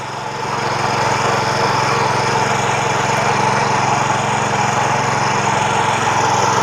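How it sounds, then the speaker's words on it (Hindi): A power weeder fitted with a 32-blade rotavator runs in second gear, tilling soil to powder, a loud, close, steady engine drone with a continuous churning rattle throughout. "अभी जैसे किसान भाई चला रहे हैं ये 2 नंबर गियर में चला रहे हैं"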